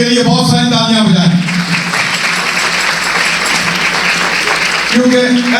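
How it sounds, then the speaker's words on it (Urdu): Congregation applause at a church sermon gathering, a burst of dense clapping from a crowd that follows a speaking voice and gives way to talk again near the end. "ان کے لیے بہت ساری تالیاں بجائیں"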